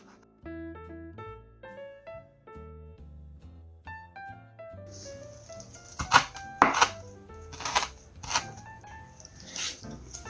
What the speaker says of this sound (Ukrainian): нарізую трішки зелені